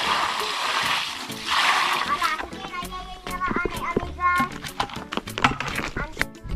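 Water splashes and splatters as it is poured at a small house construction site, landing wet and close in bursts, with children's voices and other talk mixed in around it.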